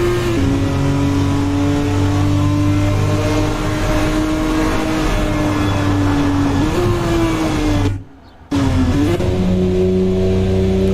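A BMW race car engine revs hard in a racing sim game, a loud steady drone with pitch climbing and dipping through gear changes, cutting out briefly for a moment near the end before roaring back.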